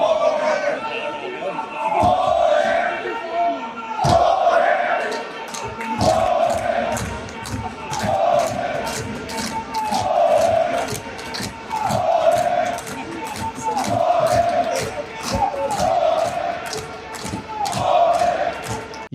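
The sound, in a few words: crowd chanting slogans in Punjab Assembly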